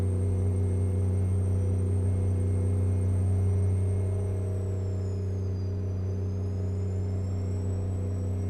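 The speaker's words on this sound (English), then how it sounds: "Definitely revving for 75." Freightliner Argosy truck engine in American Truck Simulator holding high revs, a steady loud low drone with layered harmonics and a faint whine, easing slightly partway through as the pitch dips, no talking.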